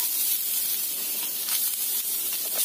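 Beetroot goes into a hot pan with chilli, tamarind, onion and coconut for chutney, giving a loud, steady hiss and sizzle that continues unbroken throughout.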